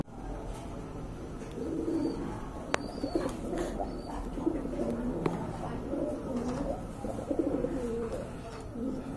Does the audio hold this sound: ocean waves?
no